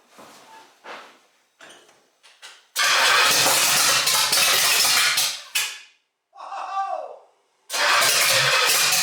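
A 1968 Pontiac GTO engine with a freshly rebuilt drivetrain cranks in short bursts, then catches and roars loud and steady, stumbling and dying briefly before firing again; a voice speaks over the early cranking.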